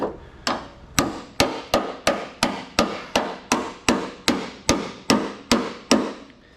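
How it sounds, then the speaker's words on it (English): A hammer pounds repeatedly on a door hinge pin of an 82-92 Camaro, about a dozen sharp metallic strikes at a steady rhythm, loud and close with ringing decay between blows. "I'm probably gonna have to clamp it here and keep pounding on it."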